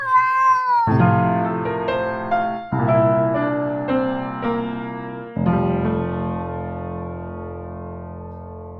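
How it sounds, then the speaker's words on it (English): A cartoon cat's meow from a Bubsy video game: long, tuneful, wavering cries over a sustained synthesized musical backing, repeating several times and ringing out at the end. "Sit, Bubsy, sit. Good cat."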